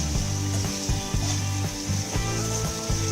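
A dish seasoned with salt and a pinch of sugar frying in a pan, a continuous close sizzle with regular scraping strokes of a spatula pushing the food around.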